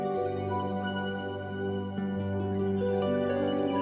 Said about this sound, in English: I'll be using the Eventide H90 on my harp to create underwater textures